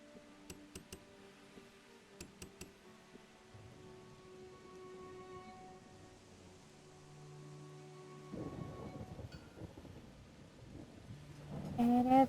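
Rain and thunder in the video game New Cycle during autumn: a steady patter of rain with low rolling rumbles, a few sharp clicks early on, and the storm swelling louder near the end.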